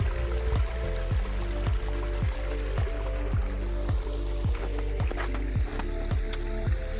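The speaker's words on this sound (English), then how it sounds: "Lots of runoff today" Rain runoff water flowing steadily into a creek, a continuous close rushing wash with a faint repeating ticking pulse running through it, no voices.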